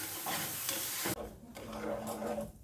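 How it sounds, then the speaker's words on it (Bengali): Sugar with a splash of water caramelizes in a pan, a soft scraping stir over a faint sizzle, close and quiet, with a brief clatter partway through and no voices. "চিনিটা নাড়তে নাড়তে দেখুন কালারটা চেঞ্জ হয়ে আসছে।"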